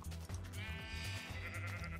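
A sheep in the Minecraft video game bleats with a wavering, nasal call that lasts about two seconds, close up over dense game noise.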